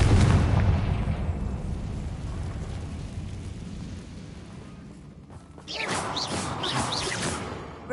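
Confringo blasting spell from Hogwarts Legacy: a loud booming blast with a rumbling, crashing tail that fades, then a second burst of crackling debris and whooshing energy.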